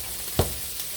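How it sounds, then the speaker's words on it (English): Onions and mushrooms sautéing in a pan after salt and pepper go in, a faint sizzle with one sharp stir or clatter in the middle. "sauteed onion and mushrooms"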